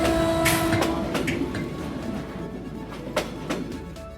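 A Sri Lankan train heading for Ella through hill country and tunnels rattles along with sharp clacks and knocks, a brief tonal horn-like note early on, and a steady rolling rumble beneath, with no speech.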